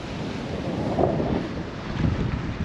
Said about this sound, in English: It's pretty pretty cold wind coming straight into the face.